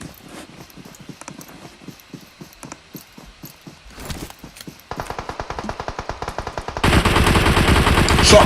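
Rapid bursts of video game gunfire, including sniper shots, crackle in a team battle match, starting sparse and faint and then growing into dense, loud, continuous volleys toward the end.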